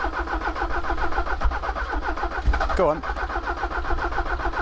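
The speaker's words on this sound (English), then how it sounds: "this engine is basically stone cold, so I'm just going to warm it up again. Hopefully it does turn back on" A stone-cold Porsche 944 engine runs with a steady, rhythmic mid-pitched idle after starting, close and loud throughout, while a voice speaks briefly over it.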